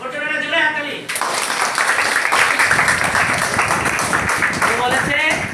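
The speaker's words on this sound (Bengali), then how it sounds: "জোরে হাততালি" Students in a classroom break into loud, dense clapping that runs to the end, right after a brief spoken line.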